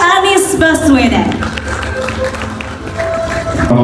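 Audience applause at an APERSI national working meeting talk show in Indonesia, greeting Anies Baswedan as he comes on stage, loud and steady throughout, with a voice talking over it and music-like tones underneath.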